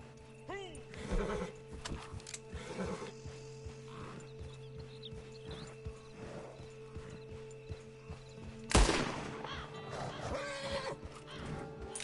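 Horse in Red Dead Redemption 2 online whinnying and stamping, with hoof clops and snorts over a steady background hum, and a sharp louder burst near the end.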